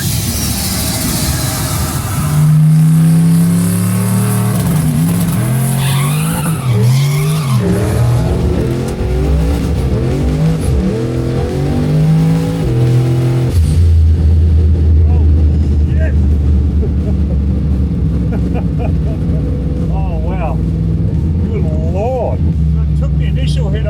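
A Holden Monaro launching at a no-prep drag race, its engine roaring loud and close, revs climbing and dropping through a gear shift, with possible tire noise.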